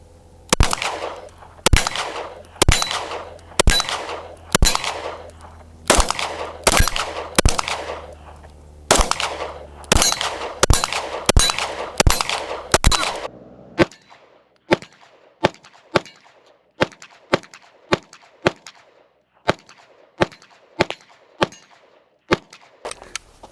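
An H&K VP9 pistol fires about fourteen sharp, loud shots at a steady rhythm, followed by a second string of crisper, more evenly spaced shots, each crack ringing briefly with echo, with no talking.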